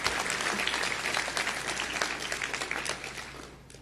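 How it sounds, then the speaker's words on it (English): At a physician assistant white coat ceremony, the audience gives one more round of applause, a full burst of clapping that thins and fades toward the end. "Give them one more round of applause"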